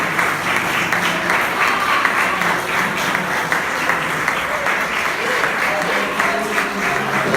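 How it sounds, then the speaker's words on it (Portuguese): A church congregation claps steadily and densely throughout a worship service, the applause sustained at an even, full level with no pauses. "Aplauda o Senhor, igreja."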